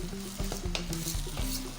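Okra (bhindi) being stirred with masala in a hot pan, a steady sizzle of frying broken by repeated scraping strokes of the spoon, close and continuous with no talking.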